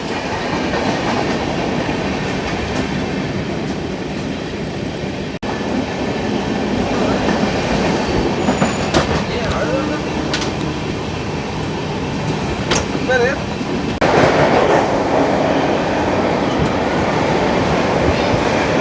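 An Indian Railways passenger express rumbles past up close, a continuous loud roar of wheels on rails with clickety-clack beats and occasional squeals, and faint voices under the din.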